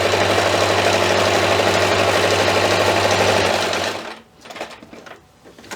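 A sewing machine stitches fabric for a homemade first aid kit with a loud, even mechanical whir for about four seconds, then stops, leaving soft handling clicks and rustles.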